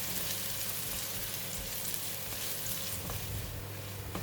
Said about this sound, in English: The oil is super hot now, so I'm going to put in the shallots. We're going to fry this until brown and crispy.